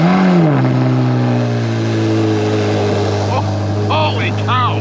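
A Chevrolet Corvette Z06 engine holds a loud, steady drone near at hand, its pitch dipping early and then staying level, with voices speaking over it partway through.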